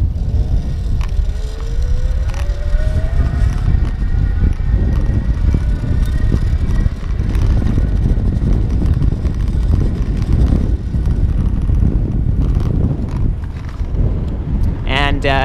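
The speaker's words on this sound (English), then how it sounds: "I'm in the highest level of assist, so you can hear the motor" Easy Motion EasyGo Race e-bike hub motor whirring at the highest assist level under hard pedaling while accelerating, a faint rising whine beneath heavy wind rush and road noise throughout.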